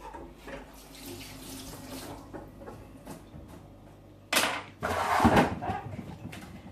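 A kitchen tap runs as kiwi fruit is washed for a baby's fruit pot, with quiet handling noises first, then a loud close gush of water splashing into the sink.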